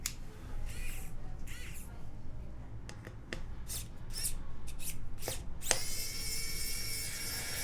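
A small electric screwdriver backs out the case screws of a TGR Jane V2 keyboard. Close, scattered ticks and clicks give way to a steady high whir near the end.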